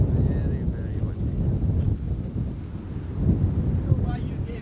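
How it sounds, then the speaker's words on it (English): Strong gusty wind buffets the microphone in loud, rumbling bursts outdoors beside a boat being painted, with faint voices in the distance. "Not a bad day for working, very, very windy."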